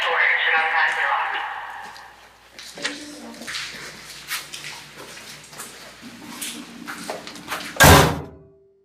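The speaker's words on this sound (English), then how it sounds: "you can just shut that door and shut outside the lock" A door is shut with a loud thud near the end, at an old asylum building at night, after people talk and move about with scattered knocks and shuffles.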